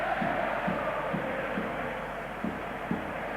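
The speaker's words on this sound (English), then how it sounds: "the happy Spanish crowd dancing and waving and chanting" Large stadium crowd of about 70,000 Spanish fans at a 1988 Spain vs Northern Ireland football match, a steady roar with rhythmic chanting swells repeating roughly every half second, distant and diffuse throughout.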